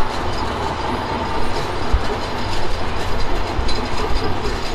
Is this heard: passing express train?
yes